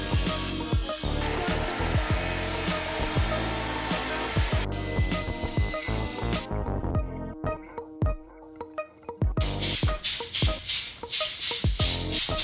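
A power saw cutting 45-degree angles in wood boards for a barn door makes a loud, continuous rasping roar with repeated strokes. It drops quieter for a moment partway through, then comes back strong. Nobody talks.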